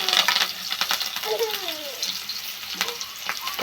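Onions, green chillies and curry leaves sizzling in hot oil in a pan, a close, steady crackling fry with clinks and stirring scrapes over it, and no talking.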